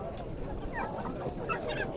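Chickens and a rooster cluck in short, quiet bursts at a bird market in Sabunchu, Baku, under a murmur of crowd noise.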